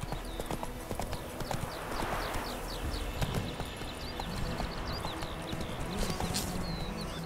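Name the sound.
horse Roach galloping in The Witcher 3 video game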